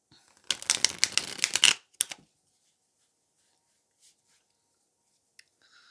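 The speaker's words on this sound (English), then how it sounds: "So let's shuffle some cards." A quick burst of tarot cards being riffled and shuffled, crisp and close, followed by a couple of soft clicks and near silence.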